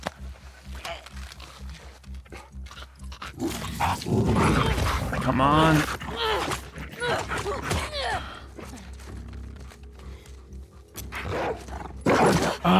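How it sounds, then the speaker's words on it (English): A hostile dog in The Last of Us Part II barks and growls in bursts during combat, loud and near, while a player speaks briefly over the commotion. "This dog's gonna kill us."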